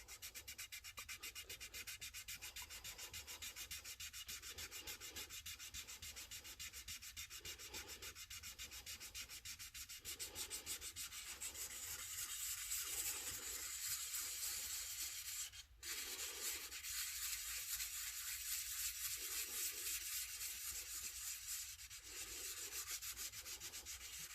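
Hand sanding with 400 grit sandpaper: a steady run of rhythmic back-and-forth rubbing strokes, fairly quiet and close, with no talking.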